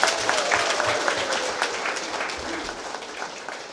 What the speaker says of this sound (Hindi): इसलिए एक बार तालियां करें